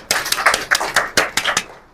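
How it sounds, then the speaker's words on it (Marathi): A small audience at a Ramabai Ambedkar birth anniversary felicitation event claps for honoured guests. Brief, sparse, close hand claps come in an uneven patter for under two seconds. "त्यांच्यासाठी जोरदार टाळ्या होऊ द्या"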